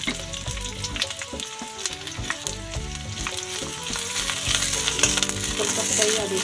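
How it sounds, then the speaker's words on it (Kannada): Onion, garlic and ginger fry in oil in a hot kadai, making a continuous crackling sizzle that swells louder toward the end, with a low tonal backing underneath and no talking. "ಕಡಾಯಿ ಬಿಸಿಗಿಟ್ಟಿದ್ದೀನಿ ಫ್ರೆಂಡ್ಸ್, ಎಣ್ಣೆ ಹಾಕಿದ್ದೀನಿ, ಈರುಳ್ಳಿ ಹಾಕ್ತಾಯಿದ್ದೀನಿ, ಬೆಳ್ಳುಳ್ಳಿ ಶುಂಠಿ ಹಾಕ್ತಾಯಿದ್ದೀನಿ"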